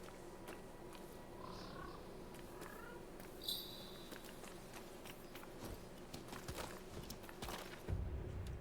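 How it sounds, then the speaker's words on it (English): A cat sits on a shrine in a video game, giving faint chirpy meows and a soft purr over steady game ambience, with light footsteps pattering along. "there's a cat on the shrine."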